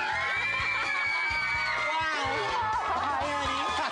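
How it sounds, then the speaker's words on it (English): Studio audience on a live morning talk show cheering, whooping and screaming as a guest comes out, a loud, continuous crowd roar with shrill yells on top and some talking underneath. "And the crowd goes wild."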